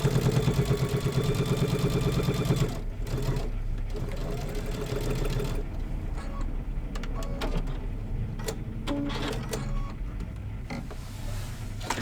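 A sewing machine runs a border onto a quilt with a quick, rhythmic chatter that is busy at first, then steadier, with a faint motor hum and light handling clicks.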